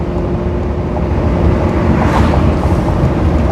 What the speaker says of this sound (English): Okay, all the windows are down. More wind inside.